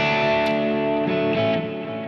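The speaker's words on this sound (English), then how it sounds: "And this is a tape delay." Electric guitar played through a tape delay effect placed after the cabinet simulation, sustained distorted notes ringing with repeating echoes, steady and fairly loud, no voices.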